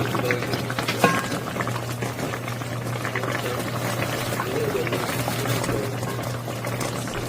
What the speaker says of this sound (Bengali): ঝোল অবশ্যই এইভাবে উপরে দিয়ে দেবেন ঝোল এইভাবে দিয়ে দেবেন উপরে